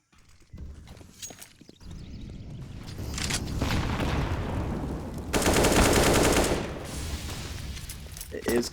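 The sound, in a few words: fast gunfire in a Counter-Strike video game match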